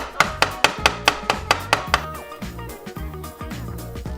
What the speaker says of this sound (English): I hate chopping garlic.